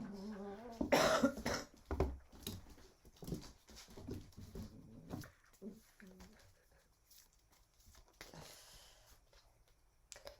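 Dogs whimper and snuffle in a quiet room, with intermittent whines, coughing sounds and panting scattered through, loudest near the start, while a person talks softly at times.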